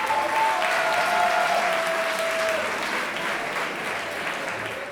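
Loud, sustained audience applause at a season finale show, many hands clapping together in a dense wash that holds steady then slowly eases, with a faint voice briefly over it.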